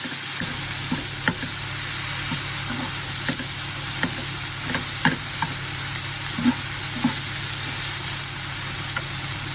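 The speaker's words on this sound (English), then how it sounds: "I'm just gonna kind of fry these in together." Vegetables frying and being stirred together in a pan while preparing chili con carne make a steady close sizzle, with light scraping stir strokes popping up throughout.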